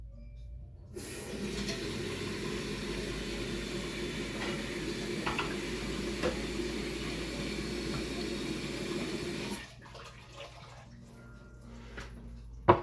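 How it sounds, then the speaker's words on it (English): Water runs from a kitchen tap into a cooking pot in a steady rushing stream for several seconds, then cuts off, leaving a faint room hum. "We're going to get some water into this."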